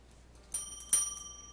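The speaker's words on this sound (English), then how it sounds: "Ring your bell." A dog rings a bell on command, giving two quick, bright metallic dings about half a second apart, each fading with a short ringing tail in a quiet room.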